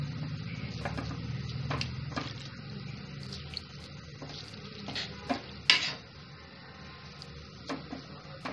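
Grated carrots being stirred in a pan on a high flame for carrot halwa, a steady sizzle and bubbling with repeated spoon scrapes and clatters against the pan, close and without speech.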